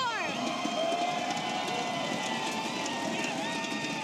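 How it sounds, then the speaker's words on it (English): A big esports arena crowd at BlizzCon 2017 roars for Tempo Storm during a Heroes of the Storm match, a dense continuous wall of cheering with faint tonal sounds running through it. "The crowd rearing here for North America"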